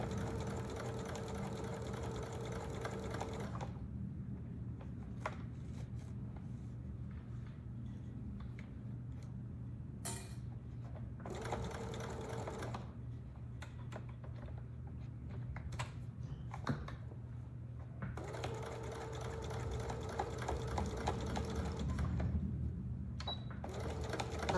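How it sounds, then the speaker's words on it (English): Sewing machine running slowly back and forth as it back stitches over thick, bulky bandana fabric and a seam, a steady close mechanical whir with brief pauses between bursts. "I'm just back stitching over the bulk."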